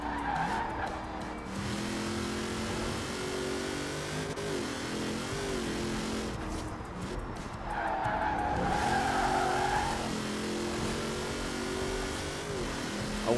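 A 1973 Range Rover drifting in Forza Horizon 4, its engine droning steadily while the tires squeal in long sustained skids, loud and continuous throughout, with no talking.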